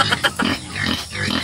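A domestic pig kept on a small farm grunts in short, repeated bursts, close and fairly loud, with no voices over it.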